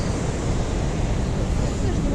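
A waterfall near the bridge by Neuschwanstein Castle in the Alps gives a loud, continuous broadband rushing roar, steady and close, mixed with some wind buffeting on the microphone.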